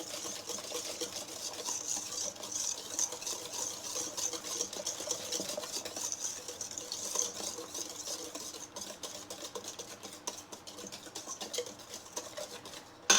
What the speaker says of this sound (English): So let's whisk in our pumpkin.